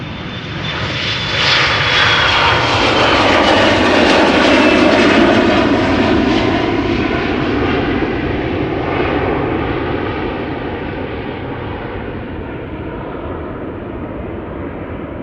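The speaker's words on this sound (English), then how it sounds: "the Embraer 175 KLM flight 1179 outbound to Linköping is coming this way" A KLM Embraer 175 jet airliner on flight 1179 out of Schiphol passes close and loud, its engine roar swelling over the first few seconds, then easing slowly as it moves off, still clearly audible at the end.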